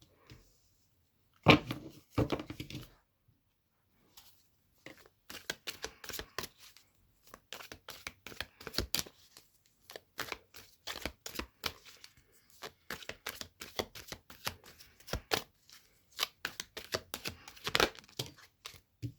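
Tarot cards are shuffled up close in quick, crisp riffling bursts that patter on and off with short pauses, and no one speaks.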